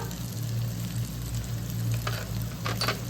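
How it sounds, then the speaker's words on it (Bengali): A masala for Bengali crab curry fries in a pan as ground coriander and other spice powders go in, giving a steady close sizzle with light stirring scrapes and an even frying hiss. "এই যে মশলাটা কষানো হয়ে এসছে, এবার আমি মশলাগুলো দিয়ে দেবো এক এক করে। প্রথমে দিচ্ছি ধনের গুঁড়ো,"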